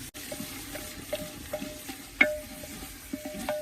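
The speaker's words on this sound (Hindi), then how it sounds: "प्याज को हल्का सा भूनने के बाद अब इसमें लहसुन डालेंगे।" Garlic frying in a pan with lightly sautéed onion, heard as a soft, steady sizzle broken by small clinks and scrapes, one sharper tap midway, close and fairly quiet with no talking.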